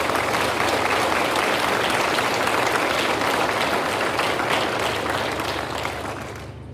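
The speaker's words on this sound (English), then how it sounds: "let's give your folks a round of applause" A large crowd at an Officer Candidate School graduation ceremony in Newport claps steadily and loudly, a dense sustained wash of applause that tapers slightly at the end.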